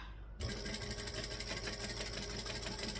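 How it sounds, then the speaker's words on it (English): A sewing machine starts up and stitches fabric for a sewing project, a steady rapid mechanical whir and needle chatter close by, running without pause and without talk. "And then I'm going to stitch"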